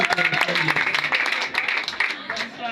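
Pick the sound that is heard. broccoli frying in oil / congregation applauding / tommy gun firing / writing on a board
congregation applauding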